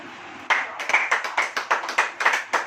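Church congregation clapping in unison during worship, a loud, steady run of sharp claps beginning abruptly and keeping an even beat of about four per second.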